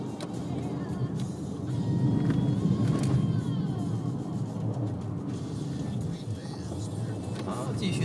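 Two cars pass by on a road through a redwood forest, a low rumbling swell that builds and recedes, heard close from inside a vehicle pulled over to the side.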